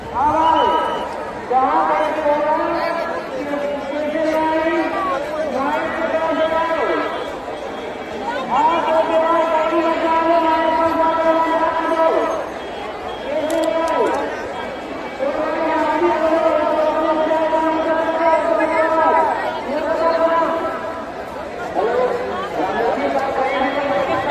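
A vast crowd at the Maha Kumbh Mela 2025 in Uttar Pradesh, with roads jammed and tents around. The steady outdoor chatter of many people is broken by long, loud horn-like blasts that repeat in stretches of several seconds.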